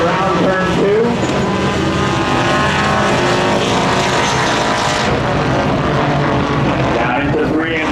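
Spectator drag race cars roar at full throttle around the track in North Carolina, heard as a loud, continuous engine howl with shifting tones and a commentator talking over it throughout.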